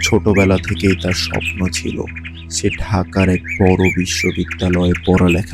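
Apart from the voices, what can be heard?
birds chirping, sound effect in animation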